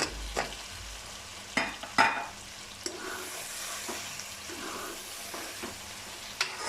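Green chilies and potatoes go into aloo gosht frying with butter in a pot, giving a steady soft sizzle with occasional sharp clatters and stirring scrapes, close and alone.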